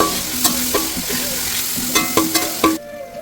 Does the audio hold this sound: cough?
no